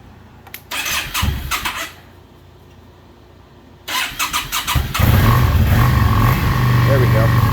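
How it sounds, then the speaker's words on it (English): A 2009 Yamaha V Star 650 Classic cruiser motorcycle cranks in two short bursts, pauses, then cranks again and fires, settling into a loud, close, rumbling idle. "Yeah, starts right up. Oh, pull the choke a little bit more here."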